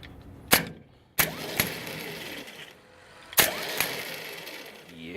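A Dodge truck starter motor, bench-tested with its solenoid pin jumped, whirs in short bursts, each kicking in with a sharp click and spinning loudly before winding down, three bursts in all at close range.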